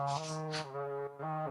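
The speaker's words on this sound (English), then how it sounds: "I don't even know what you would call this. Some kind of horn, some kind of brass." Horn- or brass-like synthetic tone built from up to four stacked studio hardware effects, playing a few short sustained notes with a buzzy, harmonic-rich timbre and breathy bursts, close and fairly quiet.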